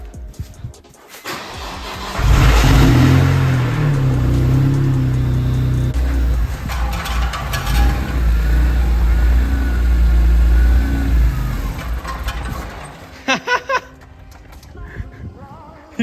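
A BMW E46 M3 cold-starts after being pulled out of the shop: a loud crank catches at about two seconds, then the engine revs hard and settles into a rough, high idle. A few sharp blips of throttle come near the end.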